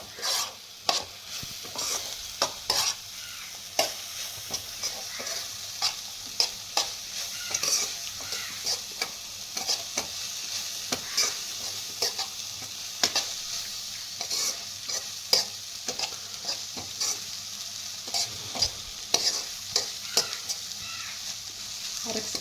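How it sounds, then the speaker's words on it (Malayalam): Ground coconut paste being stirred into beetroot thoran in a pan, with steady close scraping and spoon clicks over a soft sizzle. Irregular strokes continue throughout, and no voices are heard. "ഇത് മാറ്റിയതിന് ശേഷം നമുക്ക് അരപ്പൊന്ന് മിക്സ് ചെയ്യാം."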